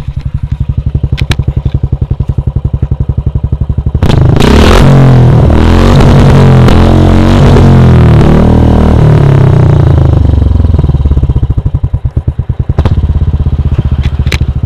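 A modified Royal Enfield Classic 350 thumps at idle through an aftermarket exhaust, then revs hard for several seconds in a loud, close burst before dropping back to its steady, pulsing idle.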